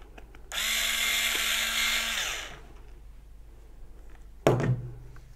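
A power screwdriver whirs for about two seconds driving a Phillips screw while a bag handle is fitted, followed by a single sharp knock; quiet and close, with no talking.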